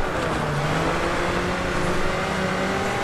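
An off-road Unlimited VW racing car in the video game BAJA Edge of Control drives steadily with a loud continuous engine drone and tire rumble, up close and without talk.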